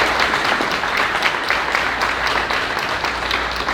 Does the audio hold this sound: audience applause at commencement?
yes